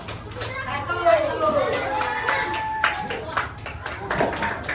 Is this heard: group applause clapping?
yes